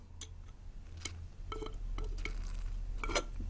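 Water is poured over small white caustic soda pellets in a glass container, with a few sharp glassy clinks and taps at the start, then a steady close trickle and light rattling, with no talking.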